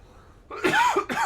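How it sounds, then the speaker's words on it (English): A man coughs twice at close range, a short pair of harsh bursts after a brief quiet lead-in, with no talk over them. "See, now I'm going to cough, though."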